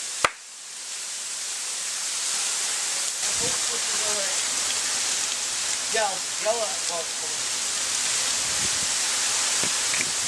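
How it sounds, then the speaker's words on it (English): Heavy rain falls on a mountain as a group of mountaineers descends, a dense, steady hiss lasting throughout. A sharp thump comes at the start, and voices speak briefly beneath the downpour. "A group of mountaineering friends is descending a mountain when it starts raining. The rain picks up"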